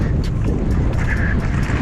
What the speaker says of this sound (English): Woo! Wind!